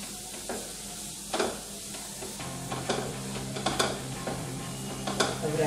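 Pav bhaji masala being stirred into butter and mixed vegetables on a pan for tawa pulao: repeated close scraping spatula strokes over a low, steady sizzle.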